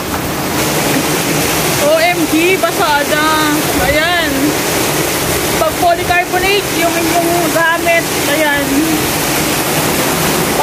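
Heavy typhoon rain with strong wind pours into a bare-finished house, including water coming into the unit, as a steady, loud wash of noise with a voice talking over it throughout.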